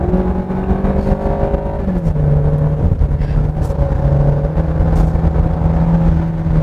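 A Kia K5's 2.0-liter naturally aspirated Nu engine roars loudly under full throttle, its pitch climbing, dropping at a gear change, then rising again in a strained, buzzing tone.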